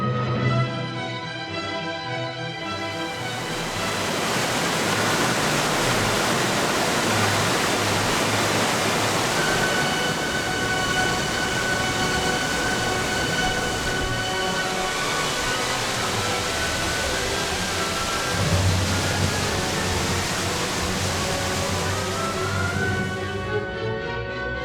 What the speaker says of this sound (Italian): una travata incanala le acque della Nossana in una seriola dal corso parallelo a quello